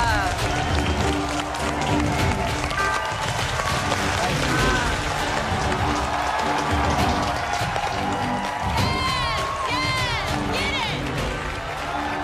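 A studio crowd at a cooking competition finale cheers and applauds steadily, with whoops and whistles, while a person talks over the noise.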